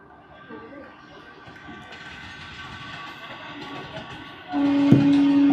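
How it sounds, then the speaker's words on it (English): A train rolls past beside a cricket ground during an amateur match, a steady rumble that swells louder toward the end with a brief tonal horn-like blast near the close. "As the train rolls, we're getting ready for the 3rd over of the innings."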